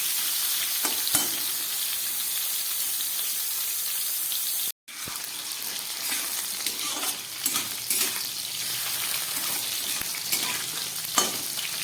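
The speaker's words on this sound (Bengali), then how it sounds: "আলু আর পটলগুলোকে একটু ভালো করে ভেজে নিচ্ছি।" Potatoes and pointed gourd fry in a pan with a steady, close sizzling hiss and scattered crackles, briefly cut off before resuming with stirring scrapes, no talk.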